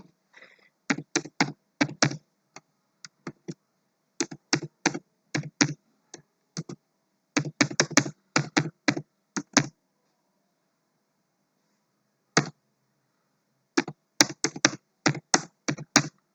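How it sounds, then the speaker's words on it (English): Python code typed on a computer keyboard: close, crisp keystrokes in quick clusters separated by pauses, with isolated single taps between bursts. "So let me just type that code."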